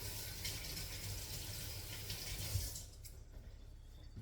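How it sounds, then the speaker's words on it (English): Hands are washed under a running kitchen tap, a steady close hiss of flowing water that cuts off abruptly near the end, leaving a quieter room. "So I'm just going to wash my hands"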